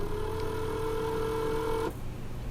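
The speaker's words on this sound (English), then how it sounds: "Hear the fuel pump run down in the tank." Fuel pump of a Harley-Davidson Evo Road King whirring inside the tank, a steady close whine that holds for about two seconds and then cuts off abruptly.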